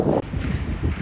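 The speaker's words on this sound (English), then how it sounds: "The wind has picked up, but the temperature has risen too" Wind gusts at an alpine lake, buffeting the microphone with a steady low rumble and a brief drop partway through, close and loud for about a second.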